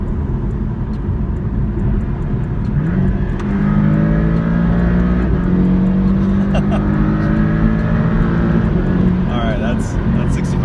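A 2019 Porsche 718 Cayman engine on the road, loud and close, with rising and falling harmonic tones as it downshifts and then pulls harder under acceleration, over constant road and wind noise.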